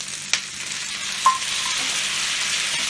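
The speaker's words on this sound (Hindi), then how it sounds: "मेरा प्याज जो है थोड़ा गोल्डन ब्राउन हो गया है, इसमें मैं टमाटर डालती हूँ।" Tomatoes hit golden-brown frying onions in a pan for Kashmiri dum aloo, producing a steady close sizzle with two sharp clicks from a utensil. No one talks.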